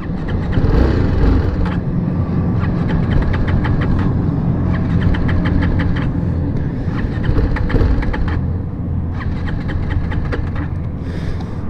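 A TVS Apache 310RR motorcycle with its petrol run out is cranked over on the starter in short repeated bursts, each a whirring buzz with breaks between, under a steady engine-like drone close by.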